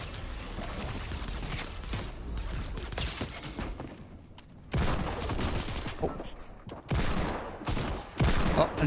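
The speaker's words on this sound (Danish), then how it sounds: "Han skyder langsomt." Fortnite pistol gunfire: repeated loud shots in bursts with short gaps, dense game action and noise around them throughout.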